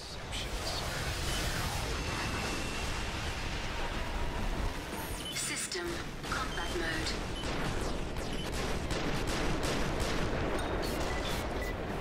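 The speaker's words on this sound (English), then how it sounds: "I'm practicing dodging missiles." Missiles and gunfire in the mech combat game Armored Core: Verdict Day on PS3: dense, continuous rattling bursts and booms fill the whole stretch, loud and relentless with no pauses.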